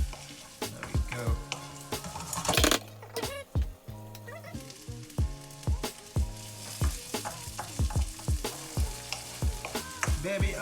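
Salmon and pepper sizzle in a pan for fried rice, with repeated sharp stirring clatters of a utensil against the pan in an irregular rhythm over a steady frying hiss.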